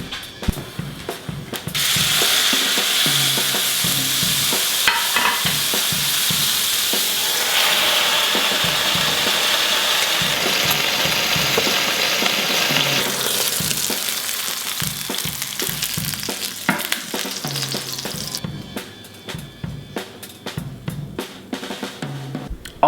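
A steak sears inside a steak-printing cooking machine, giving a loud, steady sizzle and frying hiss that holds for about twenty seconds, with occasional faint clicks mixed in and no talking.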